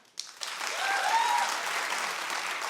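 A TV talk show studio audience breaks into clapping after a short pause, the dense applause swelling quickly and holding steady for a couple of seconds.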